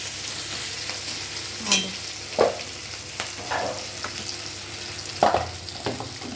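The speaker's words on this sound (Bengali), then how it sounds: "আদা টমেটো কাঁচা টমেটো দিতে পারি দিয়ে ভালো করে নাড়াচাড়া করে" Ginger and tomato fry in a pan for a bottle gourd and egg curry. A constant soft sizzle runs throughout, broken by several scraping strokes of a stirring spoon against the pan.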